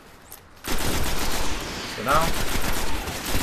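Gunfire from the video game Destiny, played in the beta's Array mission on Xbox One: a loud, dense burst of rapid shots begins after a quiet start and continues steadily, with someone speaking over it.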